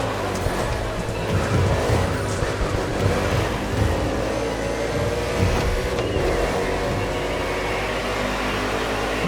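NASCAR race cars on an urban street circuit in Honolulu, Hawaii, in The Crew Motorfest roar loudly and continuously with revving engines, while a voice talks over the racing.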